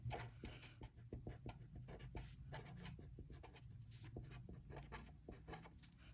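Quiet, steady scratching of writing during a seventh-grade maths lesson on rational numbers, a continuous run of small strokes and taps close by with no speech.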